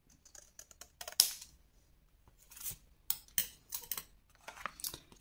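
Scissors snip through paper for a handmade scrapbooking advent calendar, with a few crisp, close cuts arriving in short bursts separated by quiet pauses and soft rustling.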